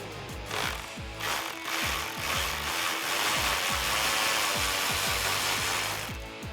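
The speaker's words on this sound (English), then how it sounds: "grab your 11mm deep socket, and we can get these 3 bolts undone" Bolts on a 2013-2014 Mustang tail light being undone with an 11mm deep socket, giving a steady run of rapid, rhythmic mechanical clatter and repeated ratcheting pulses, close and fairly loud with no talking.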